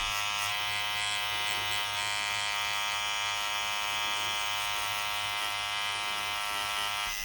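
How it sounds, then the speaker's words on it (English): A tattoo machine fitted with a 3-round liner needle buzzes in one steady, unbroken, close-up drone while fine hair strokes are tattooed into skin, with no talking. "I tattoo them with a 3-round liner needle."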